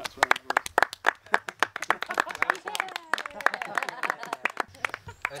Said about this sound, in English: Can we give Matt a small round of applause?